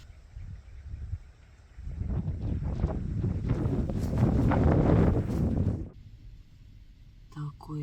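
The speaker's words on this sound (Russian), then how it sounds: "Такой ветер там бушует." Strong steppe wind gusts and roars around a parked Niva during a rainy thunderstorm, building to a loud broadband rush that then drops away, with people talking inside the car.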